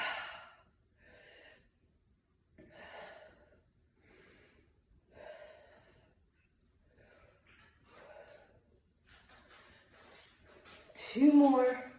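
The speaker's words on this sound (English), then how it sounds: "Keep breathing." Steady audible breaths taken during a standing pilates workout, soft rhythmic inhales and exhales spaced through the exercise, with an instructor talking over them and a louder gasp near the end.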